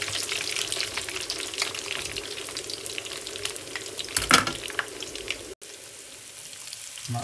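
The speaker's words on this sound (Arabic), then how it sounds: "حاليا رح ناخد البطاطا ونحطها بالزيت مثل ما انتم شايفين" Potatoes frying in hot oil for burgers: a continuous close sizzle with fine crackling and a louder bubbling surge midway, then a brief dropout before the steady frying resumes. No speech.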